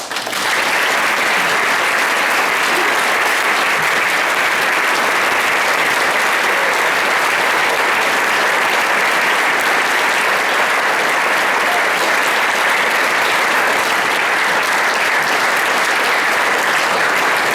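An audience claps loudly and steadily for Stephin Merritt and Mike as they take the stage at the MCA, a dense, unbroken wash of applause that stays at full strength throughout.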